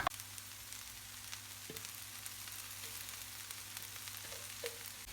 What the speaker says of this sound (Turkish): Hiç su ilave etmeden ıspanağın kendi saldığı su ile pişiriyoruz.